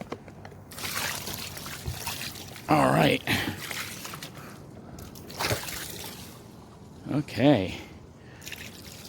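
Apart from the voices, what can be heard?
pouring water onto a car windshield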